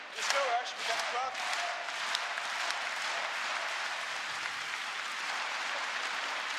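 Esports crowd at the CS:GO IEM Katowice Major 2019 showmatch, sustained dense applause and cheering filling the arena, loud and steady throughout with a brief voice near the start.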